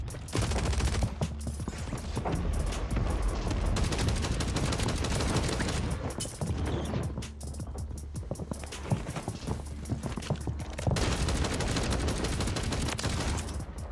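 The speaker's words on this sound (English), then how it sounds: "This gun rips, it just shoots so slow." Game gunfire in Warzone rattles loudly and steadily for most of the span, a long run of rapid overlapping shots with a few short pauses and busy in-game noise beneath.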